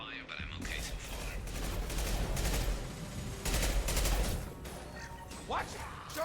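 Rapid bursts of weapon fire in the video game Mass Effect 2, dense and continuous with mechanical clatter and crashing impacts, playing at a modest level with some speech mixed in.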